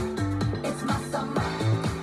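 A loud, punchy music beat with sharp metallic percussive hits recurring every half second or so over a low bass line, no voices.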